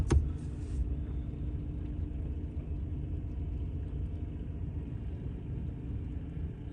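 A small tractor works in the snow loading a parts truck, its low engine rumble running steadily and fairly close after a brief clank at the start, with no talk.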